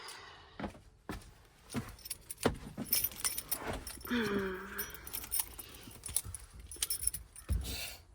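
A bunch of van keys jangles close by in several quick, scattered bursts of metallic clinking, separated by short quiet gaps.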